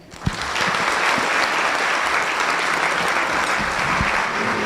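An audience at a Teachers of the Year awards luncheon breaks into steady applause for a speaker, dense sustained clapping from a large crowd that swells quickly after a single sharp clap and holds strong throughout.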